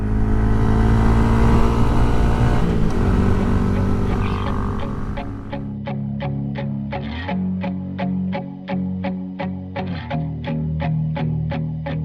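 A Honda Grom motorcycle engine held at full throttle, a loud steady buzzing drone with shifting pitch and rhythmic pulsing, heard close and continuous without talk.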